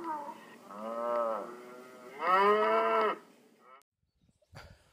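Several cows moo on a farm, a series of long, loud, close bellows with a short pause between calls, followed by near silence and a faint rustle at the end.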